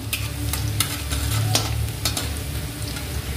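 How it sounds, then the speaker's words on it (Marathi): Garlic frying in hot oil in a pan for a Maharashtrian cluster bean (gavar) curry, a dense continuous sizzle up close with a few scraping stirs of a spatula, no talking. "लसूण चांगला तळून घ्यायचा आहे।"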